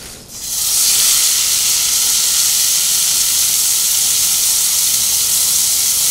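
Water boils hard in a pot while fish is cooked in a home kitchen, giving a loud, steady hiss of steam that starts abruptly and holds unbroken throughout, close and with no talk over it.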